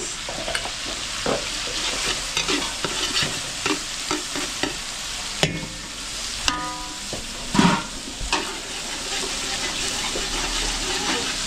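Garlic and onion sauté in a large pan during outdoor catering, sizzling loudly under repeated scraping and clanking strokes of a metal spatula.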